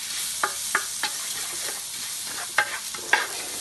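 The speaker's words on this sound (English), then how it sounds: "look at that while that's sizzling away" Rice frying in a pan for stuffed peppers, with a steady soft sizzle broken by several sharp scraping stirs at irregular intervals, close and moderately loud with no talking.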